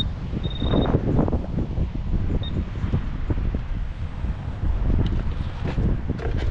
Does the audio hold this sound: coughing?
no